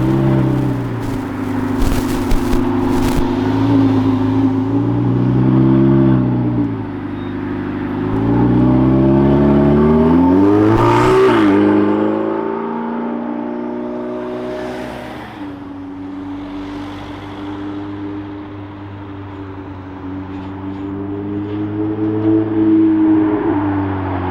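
A Ferrari race car drives along a road and revs, its engine note rising and falling through several loud sweeps and gear changes, close and sustained with no talk.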